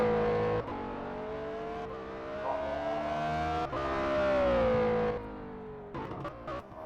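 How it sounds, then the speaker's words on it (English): Race cars in a Formula Challenge racing video game at Valencia, finishing a warm-up session, a whining engine note rising and falling through gear shifts, with several cars passing and trailing off toward the end. "Cars just finishing their warm-up session now."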